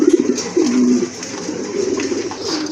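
Pigeons at a market, a male and female pair, giving low throaty coos close by, a few rolling calls at the start and then softer murmuring with faint background noise.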